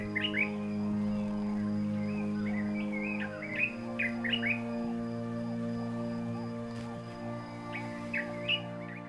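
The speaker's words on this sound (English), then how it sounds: "This is a dark-capped bulbul." A dark-capped bulbul sings short, bright chirping phrases in repeated bursts, moderately close, over a steady low hum with a constant tone running underneath.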